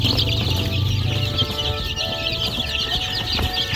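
Chickens and young chicks cluck and peep steadily at close range on a farm, a busy continuous flock chatter with no voices over it.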